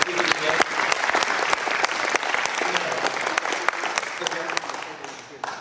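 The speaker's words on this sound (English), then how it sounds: "Round of applause for our speakers today." An audience applauds the speakers after a master naturalist talk on snakes, steady clapping of a modest crowd with a few sharp nearby claps and faint voices underneath, tapering off toward the end.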